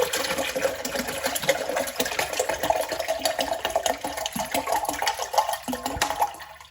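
Water pours steadily from a 1.5 litre plastic bottle into a jug while a mint lemon sharbat is being made. The rushing stream stays continuous for several seconds, then tapers off at the end.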